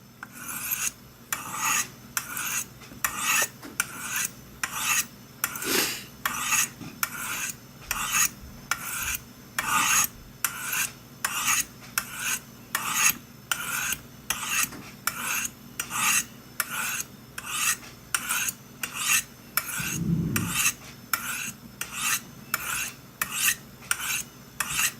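A knife is drawn over the rods of a Spyderco Sharpmaker in regular alternating rasping strokes, roughly one every second, close and clear with no talk, and a single brief low knock comes near the end.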